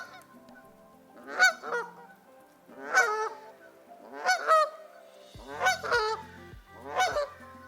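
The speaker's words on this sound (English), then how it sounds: "A goose sounds like this." A goose honking in loud, nasal calls, some single and some in quick pairs, close up with brief pauses between them.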